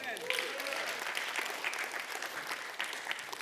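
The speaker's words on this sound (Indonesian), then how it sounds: "Ayo berikan tepuk tangan untuk Tuhan dulu." Congregation applauding during a church sermon, a fairly faint, continuous patter of many hands clapping in a large room, heard from a distance for a few seconds.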